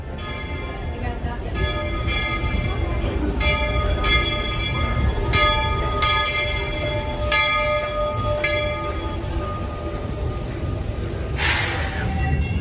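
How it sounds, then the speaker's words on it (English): Magic Kingdom railroad train arriving at a station, rumbling with repeated bell-like chimes ringing in a steady pattern, ending in a brief hiss, with voices in the background. "The train arrives every few minutes"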